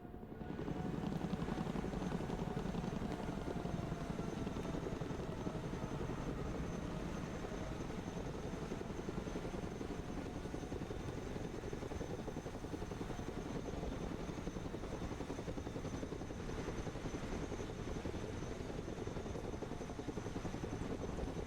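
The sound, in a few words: Chinook helicopter arriving in the video game Broken Arrow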